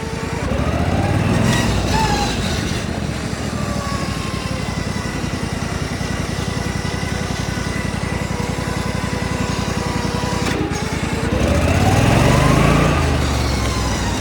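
A racing lawn mower fitted with a swapped-in V-twin engine drones steadily and loudly up close, its pitch swelling as it accelerates and surging again near the end, with no talk over it.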